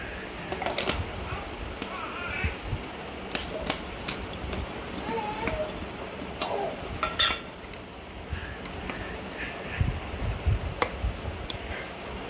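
A spoon scrapes and clinks against a bowl while milk and formula milk are mixed into rice, with irregular light taps close by and a voice talking at times.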